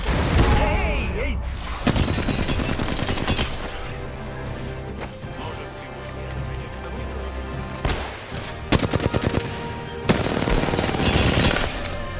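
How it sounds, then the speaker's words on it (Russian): Enemy gunfire aimed at the player in the battle royale shooter Apex Legends: loud bursts of rapid automatic fire and shattering impacts, pausing and then resuming in clusters, under a voice talking. "Ну вот, враги стреляют по мне."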